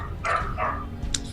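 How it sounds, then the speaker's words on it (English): A dog outside barks twice in quick succession, then gives a short higher yip, somewhat muffled and set over a steady low background hum. "Shut up, dog. That's something outside."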